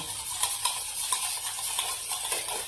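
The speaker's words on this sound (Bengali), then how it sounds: "আমি ডিমটার মধ্যে সাদা তেলটা দিয়ে দিচ্ছি যে খুব ভালোভাবে ডিমটাকে এইভাবে ফাটাতে হবে" Egg and white cooking oil beaten together in a bowl for a chocolate fruit cake batter, a steady brisk whisking with repeated light clinks against the bowl, close and moderately quiet, with no talking.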